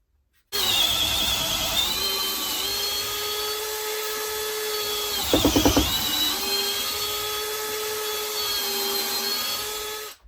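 A power drill with a 7/16 brad point bit bores into a wooden mason bee block, giving a steady loud whine that runs nearly ten seconds with a brief rougher burst partway through.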